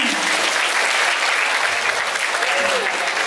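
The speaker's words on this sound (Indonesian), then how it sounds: "Tepuk tangan." A large audience at a Ramadan program bursts into dense, sustained applause, loud and close, a continuous roar of clapping that fills the whole stretch, with a faint voice briefly audible beneath it.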